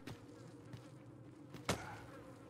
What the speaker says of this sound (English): It's just the sound of flies buzzing around a corpse.